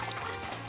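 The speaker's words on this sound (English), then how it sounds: "I'll cool you off, Quickster, with one of my water balls." Cartoon water ball splash from a superhero animation, a short sloshing, pouring gush of water, soft and continuous with no talk.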